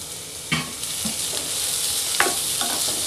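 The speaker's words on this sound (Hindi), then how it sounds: "इसे थोड़ा सौते कर लेंगे।" Chopped carrot being sautéed in a pan for a soya momo filling: a continuous oily sizzle broken by a few scraping stirs of a spatula, close and fairly loud, with no talking.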